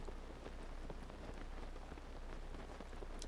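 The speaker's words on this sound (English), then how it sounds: "This rain is going to make this annoying" Steady rain falling in the video game Zelda Tears of the Kingdom, a dense, even patter of drops on surfaces with no voices.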